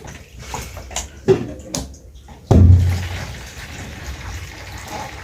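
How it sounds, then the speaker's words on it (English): Hot water is splashed and poured during a newborn's bath, with a few soft splashes and then a louder gush that trails off into quieter trickling, all near and without talk. "So we are left with using hot water to massage."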